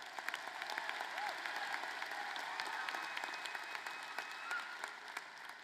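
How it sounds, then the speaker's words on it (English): An audience at a college commencement ceremony breaks into applause, a soft, distant, sustained patter of many hands clapping under a hall's ambient hum, with scattered sharper individual claps. "yes, that calls for applause."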